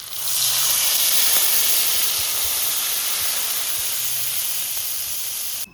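Water poured into a hot pan of fried spices, salt and turmeric on a village clay stove, a loud sustained steam hiss that holds steady and then cuts off abruptly.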